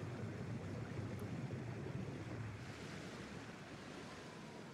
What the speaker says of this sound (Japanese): お水いっぱい出しちゃいました。